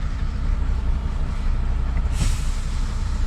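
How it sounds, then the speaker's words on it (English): Truck air handbrake set by a driver during a reversing exercise, a single short sharp hiss of released air over the steady low idle of the engine. "Handbrake on."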